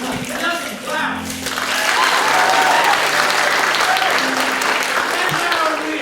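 An audience at an improvised Dungeons & Dragons comedy show bursts into applause that swells after a brief quieter start and holds steady, with a voice briefly heard over the clapping near the beginning.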